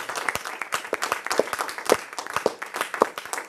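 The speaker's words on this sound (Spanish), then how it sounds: "Denle una ofrenda de aplausos al Señor" Church congregation clapping in a loose, uneven rhythm, individual sharp claps standing out above a softer wash of hands, moderately close and fairly lively across the whole stretch.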